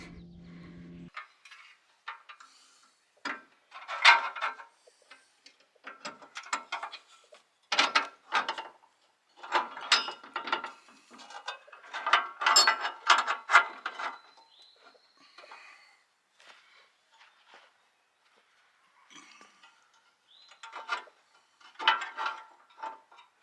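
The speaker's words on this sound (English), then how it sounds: "Now I just have to tighten these down." Ratcheting clicks while the running board bracket bolts are tightened on a camper van, coming in scattered close bursts of short mechanical ticks with pauses between, in an otherwise quiet space.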